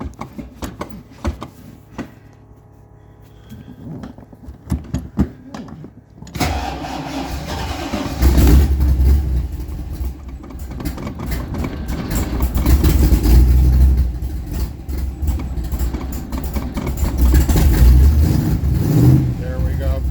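A Superformance car cold-starts after a quiet stretch with faint handling sounds and a fuel pump priming, then the engine catches and settles into a loud, steady rumbling idle with small surges in revs, heard close up.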